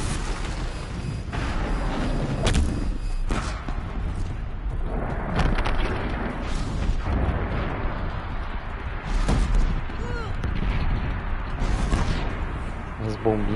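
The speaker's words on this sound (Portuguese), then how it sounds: "Bombinha é boa demais" Repeated heavy booms and blasts from bombs in Horizon Zero Dawn on PS5, several bursts in a row, with a person talking over the action.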